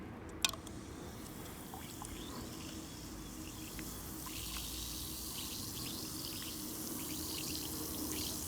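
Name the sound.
Alka-Seltzer tablet dropped into water, fizzing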